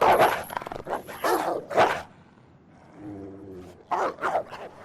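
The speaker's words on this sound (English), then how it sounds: "the zombie dog was like legitimately at least pseudo scary" A zombie dog in the horror video game Alone in the Dark gives a run of harsh, loud barks and snarls up close, then falls to a low growl before more aggressive barking bursts out.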